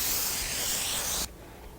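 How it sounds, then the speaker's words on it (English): Foam adhesive sprays from an aerosol can onto a piece of upholstery foam for a headboard, a short, loud, close hiss that stops sharply after about a second. "And then we're going to spray a little bit on the foam."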